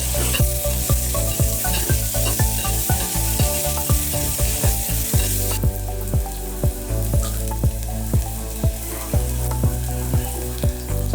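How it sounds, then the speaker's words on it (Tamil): Onions and curry leaves fry in a pan for mutton thala curry kuzhambu, with a bright, steady sizzle broken by quick rhythmic spoon strokes clacking against the pan up close. "வெங்காயம் நல்லா வதங்கிருக்கு."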